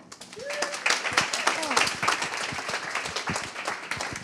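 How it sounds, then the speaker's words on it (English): Audience applause at a marketing meetup in Cambridge, a steady patter of many hands clapping across the room that holds fairly even for a few seconds, with a few voices mixed in underneath. "Lenka, please give a round of applause"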